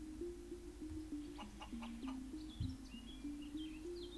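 Soft, intermittent clucking of chickens in the video game Equilinox over a steady low hum, with faint high chirps of birds in the background.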